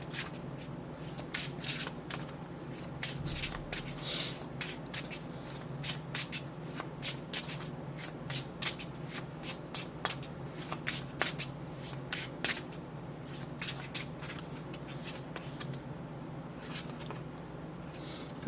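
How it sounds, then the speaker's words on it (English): Tarot soul journey cards being shuffled by hand, a soft, continuous riffling with repeated crisp flicks and slaps at an even rhythm, fairly quiet and close, with no talking. "So let's pull one of these soul journey cards and see where you're at with that."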